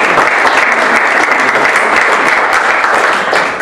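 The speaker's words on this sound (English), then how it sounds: "So let's give Tammy a round of applause." An audience at a Republican political gathering in Grinnell, Iowa gives Tammy a round of applause, dense, loud, sustained clapping from many people that carries evenly for several seconds and fades slightly at the end.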